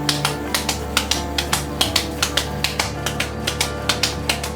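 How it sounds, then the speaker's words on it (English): Regular, rapid slaps of a raw hamburger patty passed between cupped hands while shaping a BBQ bacon rodeo burger, crisp close smacks repeating roughly four times a second with no talking. "just basically slapping that patty."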